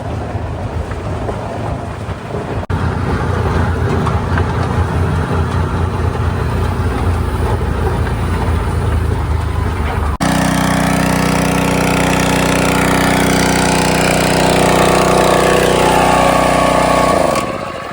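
Buggy engine running close and loud, a steady rough motor rumble that shifts to a harsher, higher drone partway through before cutting off at the end.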